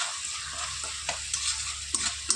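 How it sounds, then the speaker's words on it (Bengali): Fish curry with turmeric and salt being stirred in a pan: a soft, steady sizzle with a few light scrapes and taps of the spoon, close but fairly quiet. "দিয়ে বেশ নাড়াচাড়া করে নেব ভালো করে"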